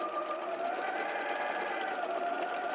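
A domestic sewing machine runs a steady, continuous stitch along a quilting seam, a close, even mechanical whirr holding at one level throughout with no pauses.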